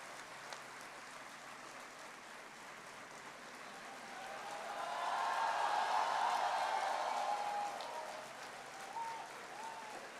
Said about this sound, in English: Can I have a round of gratitude applause from all of you for the faculty